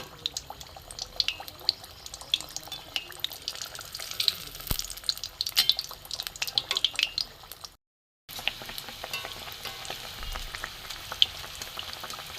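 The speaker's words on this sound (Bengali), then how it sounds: "এগুলো ভেজে নেবো এইভাবে" Jackfruit-stuffed kachori sizzling in moderately hot oil, a steady crackling fizz with scattered pops that drops out briefly then resumes.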